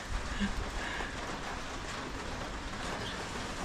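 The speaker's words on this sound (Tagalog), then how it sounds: "Dito lang tayo sa Gedli dahil umuulan" Rain falling over a backyard garden, a steady broadband hiss of drops with a low rumbling undertone, constant and moderately close throughout with no clear voices.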